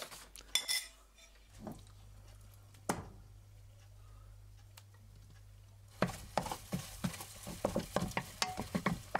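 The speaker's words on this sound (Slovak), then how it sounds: "Do rozohriatého voku dáš sezamový olej a naleješ doň vajíčka." Eggs fry in a hot wok with sesame oil. A steady low sizzle runs beneath a quiet start, then a utensil scrapes and clinks against the metal in quick repeated strokes as the eggs are stirred and torn.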